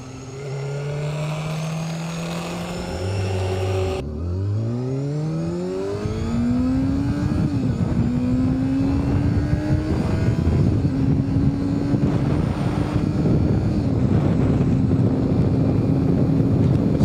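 Honda CBR 250RR motorcycle engine revving and riding, a loud rising whine that climbs through several gear changes over steady rushing wind noise, no talk.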